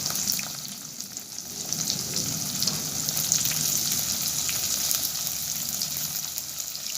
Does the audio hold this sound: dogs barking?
no